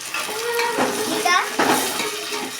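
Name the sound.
stirring tomatoes in a frying pan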